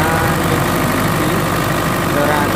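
A 120 PS diesel engine on a 50 kVA generator set runs loudly and steadily up close. It is set at the edge of a rice field, and its dense, even drone carries no variation.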